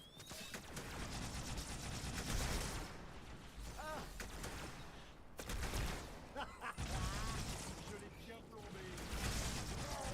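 Rapid gunfire bursts in the shooter game Halo Anniversary, set in a city: dense rattling volleys with brief pauses between, steady and fairly loud across the stretch.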